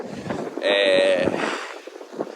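Cold coastal wind roars steadily into the microphone at El Doradillo, with gusty rumbling buffets and a brief whistling tone over the blustery noise.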